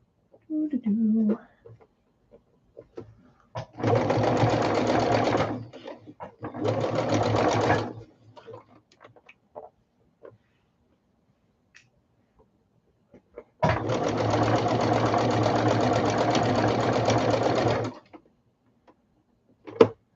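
Sewing machine running a quarter-inch seam on the top half of a quilt block, in three steady bursts of a few seconds each, the longest about four seconds, separated by quiet pauses with faint handling noises.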